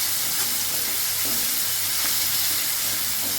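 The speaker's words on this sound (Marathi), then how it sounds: "कांदा परतलाय, त्यामध्ये 1 टोमॅटो, तो पण आपल्याला परतून घ्यायचा आहे" Onion and tomato sautéing in oil in a pan over high heat, a steady close hiss and sizzle with faint stirring movements underneath, continuous and fairly loud.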